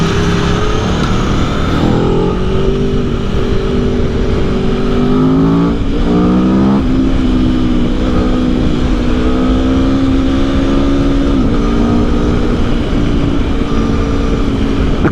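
Aprilia Tuono V4 Factory naked bike engine revving hard while riding in lower gears, loud continuous roar rising and falling with sharp shifts and wind rush, close and alone.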